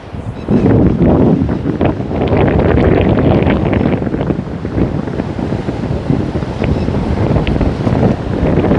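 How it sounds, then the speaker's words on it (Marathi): Waves and wind roar continuously on Devgad beach, a loud, dense rush with heavy wind buffeting the microphone and surf washing in and out throughout, with no voices. "तर ह्यो असा आमचो देवगडचो बीच"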